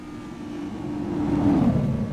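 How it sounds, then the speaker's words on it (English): A loud car engine in the video game Arma 3 drones in a low, rough rumble that swells steadily louder as it nears, heard alone without voices. "That's a loud car."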